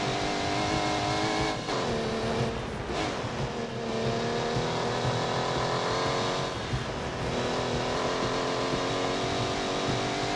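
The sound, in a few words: car accelerating in The Grand Tour video game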